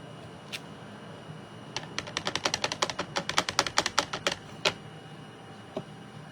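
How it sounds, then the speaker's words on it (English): A rubber ink stamp taps repeatedly on an ink pad while a greeting card is made: a quick run of about twenty sharp, close taps in an even rhythm, with a few isolated taps before and after. "I'm just going to go tap, tap, tap in my ink pad"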